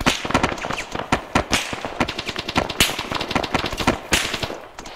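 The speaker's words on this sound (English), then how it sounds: "We are taking heavy fire" Heavy automatic and rifle gunfire rattles through an Arma 3 close-quarters battle, with rapid, overlapping bursts of sharp shots cracking continuously at close range, some louder reports standing out above the dense volley.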